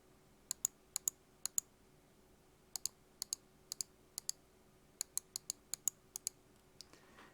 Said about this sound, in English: it has a very nice tactile feedback on the button clicks